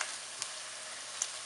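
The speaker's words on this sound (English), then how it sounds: "you want to keep stirring the lemongrass and garlic around" Lemongrass and garlic sizzle in hot oil as they are stir-fried, a soft, steady crackling hiss with a couple of faint pops.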